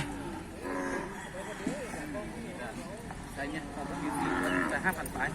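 Cattle low and moo at a busy cow market selling small beef calves. Several drawn-out calls rise and fall amid steady crowd chatter, and people talk nearby throughout.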